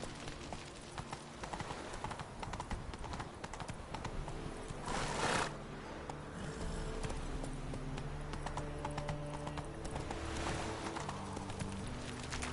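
Roach, the horse in The Witcher 3, carries its rider at a steady clip, hooves drumming rhythmically over a constant backdrop of game ambience and music, with a brief louder burst midway.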